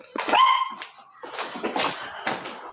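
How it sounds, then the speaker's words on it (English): A dog barks nearby in a short series of sharp, yelping barks, the first one a higher whine-like yip, with no talking over them. "You guys hear that my dog's barking."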